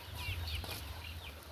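Chickens in a coop give several soft, short clucks and chirps over a steady low background hum, faint and somewhat distant, with no talking.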